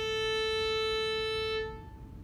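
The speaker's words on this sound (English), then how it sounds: "For example, an A that vibrates at 440 hertz will be caused by sound waves that vibrate" A sustained A note at 440 hertz rich in overtones holds steadily for about a second and a half, then fades quickly into quiet. It is heard alone, with no talk.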